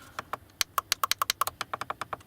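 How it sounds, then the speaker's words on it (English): Keys clatter on a Lenovo IdeaPad 110-15ISK laptop keyboard, a quick close run of about fifteen sharp, clacky taps in under two seconds. "let's take a look at the keyboard just to hear how loud the keyboard is"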